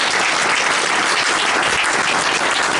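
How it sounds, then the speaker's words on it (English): A conference audience delivers a loud, sustained round of applause, dense uninterrupted clapping filling the room from start to finish. "And can you please give yourself a round of applause?"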